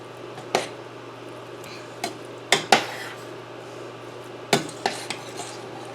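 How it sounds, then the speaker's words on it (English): A spoon works through moist muffin stuffing in a bowl, giving sporadic sharp clinks and scrapes against the dish between softer wet stirring, close up, with no talking. "I'm just stirring it enough to get all of the ingredients wet"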